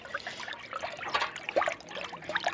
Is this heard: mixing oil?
yes